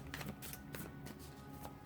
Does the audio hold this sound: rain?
no